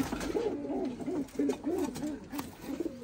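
Domestic pigeons coo in a steady repeating rhythm, soft rolling calls following one another closely at moderate loudness, with no one speaking.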